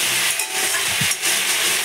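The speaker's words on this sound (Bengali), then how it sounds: "ভালো করে আলুটাকে ভেজে নেবো।" Potatoes fry in a pan with salt for an ilish and kochu curry, giving a steady close hiss and sizzle across the whole short stretch with no talk.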